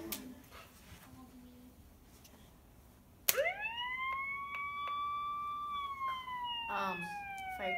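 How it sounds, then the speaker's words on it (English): A Dot robot toy plays a fire truck siren: a sudden loud electronic tone that rises sharply, then holds a steady, slightly wavering wail for several seconds, close by in a quiet room. "Fire truck or siren."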